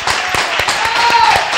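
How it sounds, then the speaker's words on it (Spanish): An audience at a stage show gives a short burst of steady, fairly loud applause, with claps running evenly throughout. "le damos fuerte el aplauso"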